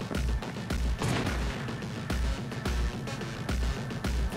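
Gunfire in the video game Cyberpunk 2077: loud, heavy shots fired in regular bursts, each a booming crack with a short tail, repeating roughly every half second to a second, with no voices.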